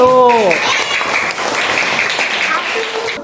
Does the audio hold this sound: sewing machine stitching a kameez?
no